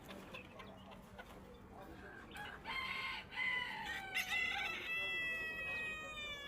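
A rooster crows loudly partway through, its call rising over quieter clucking and general farmyard background noise.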